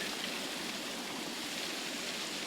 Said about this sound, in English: It's just pouring over the seawall, and I'm paddling right through it